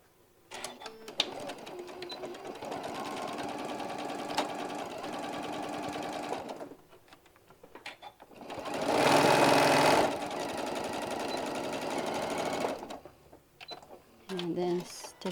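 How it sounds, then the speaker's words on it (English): A sewing machine stitching with black thread hums steadily and close in two long runs with a short pause between, then a shorter burst at the end, while someone talks over the stitching. "And we're just going to stitch from the top to the bottom."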